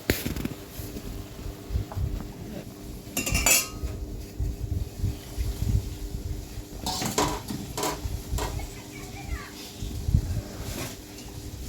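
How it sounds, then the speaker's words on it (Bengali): Potatoes and eggplant with spices being stirred and fried in a pan, metal utensil clinks and scrapes against the pan coming in irregular bursts over a steady low sizzle, close up, with no talking. "এবার আলু বেগুন আর মশলার সাথে আমি কষিয়ে নিচ্ছি খুব ভালো করে।"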